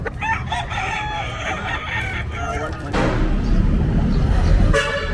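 A fighting cock crows loudly at a crowded pet market in Bocaue, with the busy crowd murmuring around it and a car horn honking near the end.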